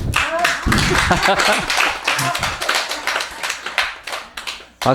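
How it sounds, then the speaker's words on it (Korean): Audience members at a Buddhist philosophy lecture clap their hands in uneven bursts of sharp claps, close and fairly loud, interleaved with someone speaking throughout. "박수 열심히 쳐보세요"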